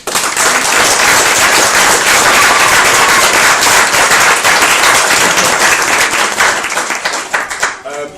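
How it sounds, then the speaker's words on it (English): Wedding guests applaud at a reception, a dense, loud and steady clapping that fills the whole stretch and tapers slightly near the end. "So they all need a round of applause."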